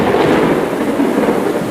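Heavy rain pours steadily with a deep rumble of thunder rolling through, loud and continuous for the whole stretch, with no voices.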